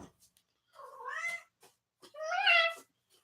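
A cat lets out two loud, close meows, the second longer and more strained, with small clicks and handling noises between them.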